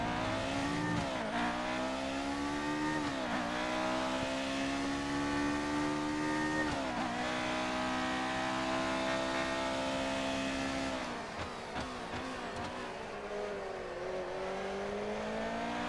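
Formula 1 car engine in the F1 2019 racing video game, a loud continuous high-pitched whine rising and falling through gear changes, with repeated upshifts and brief downshifts, alone with no talk.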